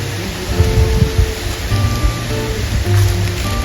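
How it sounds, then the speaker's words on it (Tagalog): Steady hiss of rain falling nearby, continuous and fairly loud, with faint low thumps of drops on a surface. "Ulan na po guys."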